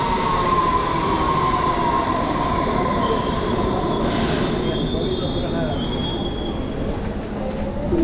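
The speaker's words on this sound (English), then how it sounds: "Here comes the U5. Perfectly on time." A Berlin U5 subway train pulls into the station, rumbling loudly and close with its wheels squealing in long, high whines over the steady roar.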